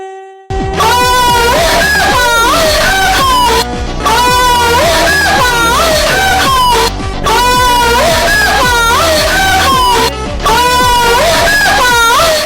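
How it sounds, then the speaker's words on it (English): Loud, high-pitched screams from an app being tested on a phone repeat in a looping pattern, with near-continuous wailing broken by short gaps. "those screams sound very sus to me"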